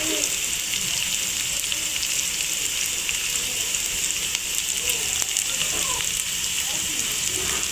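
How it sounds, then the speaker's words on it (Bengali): Onions frying in a pan for a chickpea (chola) curry, a continuous close hiss and crackle of sizzling oil, steady and fairly loud, with faint stirring scrapes and no speech. "পেঁয়াজটা ভাজা হোক, তারপর আমি বাকি মশলা একটু করে দিয়ে দিব।"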